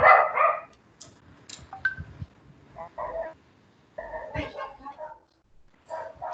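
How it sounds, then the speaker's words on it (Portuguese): A loose dog barks several times in short bursts, moderately close, between stretches of quieter background noise and movement. "É um cachorro solto aí."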